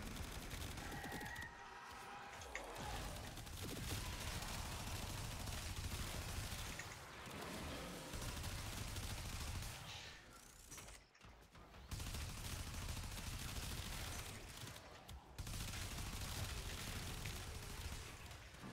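Rapid Telos Boltor gunfire with Incarnon nail-bomb explosions in the Warframe video game, loud and dense bursts of shots and booms rolling almost continuously with brief gaps, no voices.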